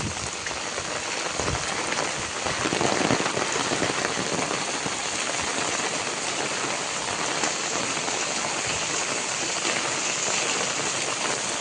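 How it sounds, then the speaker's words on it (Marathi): Rain pours steadily in a Konkan village, a loud, dense, unbroken hiss of drops hitting surfaces close by, with no voices. "ऑलमोस्ट आता पाऊस सुरू झाला."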